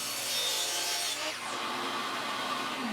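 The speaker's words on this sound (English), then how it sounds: "over at the miter saw, I used my shadow line to help me adjust the saw to the right angle, and then I cut both of those triangles out" A miter saw bites through wood to cut small triangles, a steady close rasping, whirring cut that shifts in pitch partway through as the blade works the piece.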